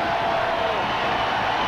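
A stadium crowd at a 1992 college football game between Georgia and Arkansas roars steadily, a broad, constant wash of cheering with no pauses.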